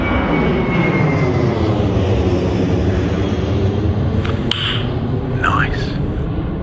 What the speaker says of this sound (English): Boeing 737 to 800 Norwegian Airlines noise.